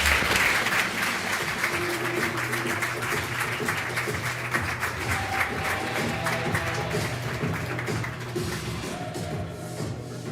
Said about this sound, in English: let's give a good round of applause for Pierre-Luc Gosselin